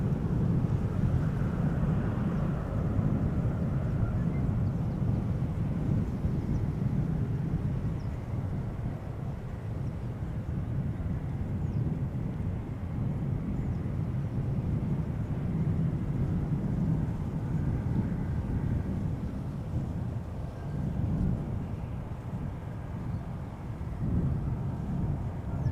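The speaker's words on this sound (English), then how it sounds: "Time for another heavy taking off from the Polderbaan." A heavy jet airliner takes off from the Polderbaan runway at Amsterdam Schiphol Airport, producing a steady, loud, low-pitched roar that rumbles on without a break, mixed with wind buffeting the microphone.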